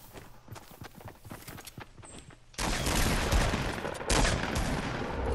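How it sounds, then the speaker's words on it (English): Fortnite gunfire starts as quieter scattered shots with footsteps, then rapid loud bursts take over partway through and keep going as dense, near firing to the end. "Who's shooting? Someone's shooting."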